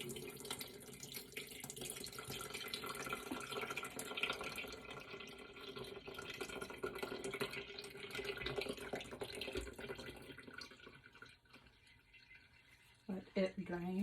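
Liquid from a can of green beans pours and trickles steadily into a container, a continuous soft splashing stream that thins out near the end, with quiet talk underneath.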